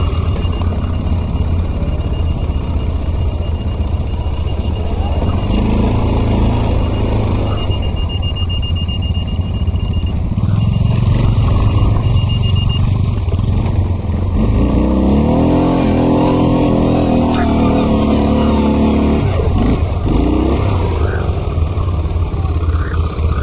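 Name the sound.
quad bike engine accelerating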